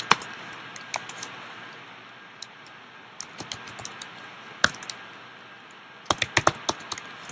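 Computer keyboard typing, close and fairly quiet, with scattered single key taps early on and tighter clusters of rapid clicks near the end over a faint steady room hiss.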